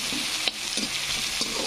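Curry leaves fry in hot oil with a steady close sizzle and crackle, a couple of sharper pops and occasional stirring scrapes for a potato dish, with no talking.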